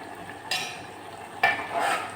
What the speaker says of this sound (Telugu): ఇప్పుడు కొంచెం ఉడుకుతుంది.